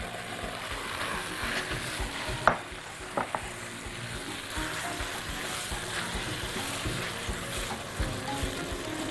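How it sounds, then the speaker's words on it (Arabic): Washed okra is stirred in a cooking pot over sizzling heat, with continuous frying crackle and a few sharp scrapes and knocks of the spoon against the pot, close up and without talk. "بينا ننزل الباميه المغسوله طبعا"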